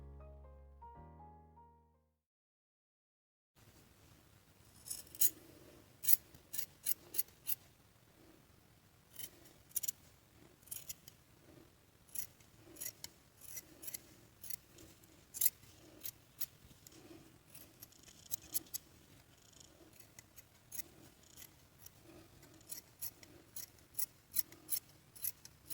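Scissors snip through felt, cutting out a drawn-up pattern piece for a small stitched mushroom toad figure; a long run of crisp, close, fairly quiet cuts comes in irregular bursts after a brief silent start, with no talking.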